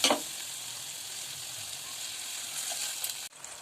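Water heating in a pot for making jowar mudde, a soft, steady bubbling hiss that stays faint and even before cutting off sharply near the end.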